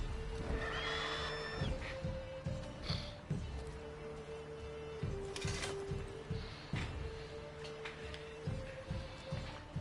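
A horse in the video game The Witcher 3 whinnies with a high, wavering neigh early on, heard over steady game music and ambient background sound.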